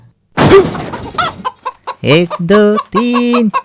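Cartoon chickens cluck and squawk in an animated Malayalam film, a burst of agitated clucking followed by several loud, drawn-out hen calls close up, with no speech.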